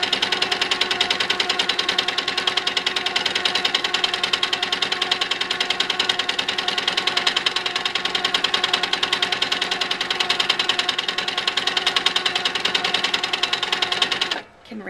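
A quilting sewing machine runs steadily, stitching a ribbon candy pattern along a channel of a quilt block, a continuous rapid mechanical whir with fast needle clatter that stops abruptly near the end.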